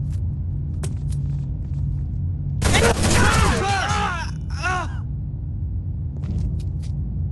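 Gunfire in Rainbow Six Vegas 2 comes as a sharp burst of rapid shots lasting about two seconds, followed by a shorter volley over a constant low rumble, with scattered faint clicks before and after.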